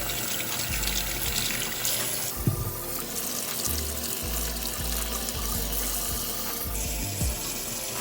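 Tap water running steadily over potatoes being rinsed in a kitchen sink, a continuous wash of water with some clunks and shifts as the potatoes are handled, fairly close and alone with no talk.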